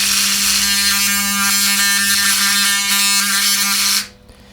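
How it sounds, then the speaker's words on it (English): A 200-cycle signal generator tone played through the speaker of a 1960s long range radio receiver comes out as a loud, harsh, steady buzz with rattling distortion, holding for about four seconds before cutting off abruptly. "So I have a 200 cycle tone from my signal generator."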